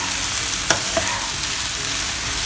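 Steady sizzling of cabbage rice frying in a wok, seasoned with salt and pepper, with a couple of soft scraping stirs of a utensil against the metal, close and continuous without any talking.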